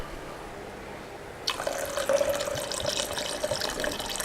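Liquor poured into a mojito glass, a thin close splashing trickle that starts suddenly after a quiet moment and keeps running steadily to the end.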